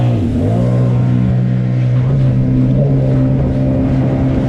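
A Sea-Doo Trixx personal watercraft engine drones steadily and loud close by, its pitch rising as it revs up early, then holding a sustained, buzzing hum on the water throughout.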